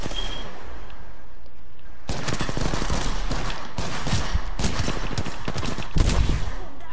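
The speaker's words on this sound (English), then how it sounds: "I shot the bullet and it hit him and didn't do anything" Rapid bursts of video game gunfire crackle from about two seconds onward, loud and close, with several dense volleys and a sharper burst near the end; the opening seconds are quieter.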